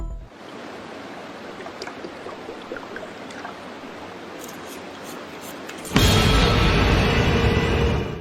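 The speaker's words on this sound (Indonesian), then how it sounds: "Lalu Tyler pergi ke sungai untuk mengambil air." River water flows steadily in a forest setting, a continuous broadband rush with no talk, becoming noticeably louder and closer for the last couple of seconds.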